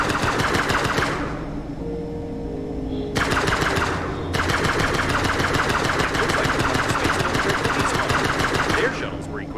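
Turrets in the space survival game Breathedge fire rapid, dense automatic bursts that run almost continuously with brief breaks, loud and close over a low engine-like hum, with a voice talking over the gunfire.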